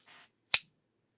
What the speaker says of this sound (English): I needed something that was going to make a loud clap